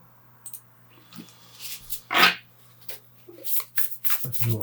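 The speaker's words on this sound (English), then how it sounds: "let's give them a wee shuffle." A standard-size tarot deck is shuffled by hand, with soft riffling bursts and card slaps that build to one louder flurry, close up, with a voice speaking quietly in places.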